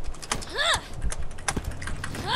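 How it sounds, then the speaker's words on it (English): Rapid, clattering computer keyboard keystrokes patter close to the microphone during a Borderlands gaming session, with short squeaky tones and game noise mixed in. "I just hear you like banging away on your keyboard."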